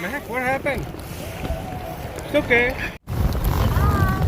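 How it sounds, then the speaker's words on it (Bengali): A raft drifts on the Bow River in Calgary, with water rushing and wind buffeting the microphone in a steady wash under a person talking, briefly cutting out near the end. "আমার লাইফে প্রথম এরকম রাফটিং করা"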